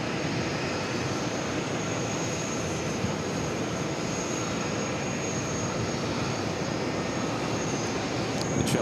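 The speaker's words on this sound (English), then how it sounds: "The JetBlue A321neo taking off on 4 left, heading to LAX." A JetBlue Airbus A321neo taking off from runway 4 left at New York JFK, a steady broad jet engine roar held throughout, moderately distant and unbroken, with no voices.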